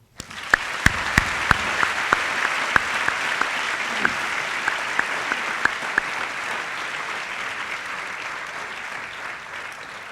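Audience at a high school valedictory ceremony giving a round of applause: sustained dense clapping with a few sharp, distinct claps standing out near the front, gradually easing over ten seconds.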